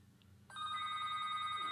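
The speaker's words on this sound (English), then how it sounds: "I can't be bothered with the phone call" A telephone bell begins ringing abruptly after a quiet moment, a steady, bright electronic trill that continues to the end, fairly close and alone.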